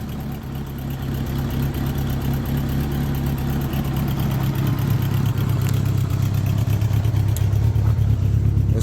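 A 1986 Honda GL1200 Interstate Goldwing with a fuel pump problem idles close by. The engine keeps up a steady low rumble that grows slightly louder and rougher, with faint ticking on top and no voice.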